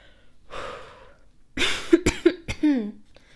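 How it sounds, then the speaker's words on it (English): A person coughs several times in quick succession, close and fairly loud, with breathing and throat noise around the coughs and no talk. "Sorry about my cough."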